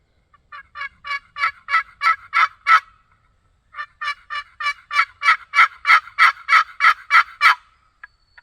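Two runs of rapid, rising turkey hen yelps from a box call played cupped in the hand, each series building louder, separated by a short pause; no talking.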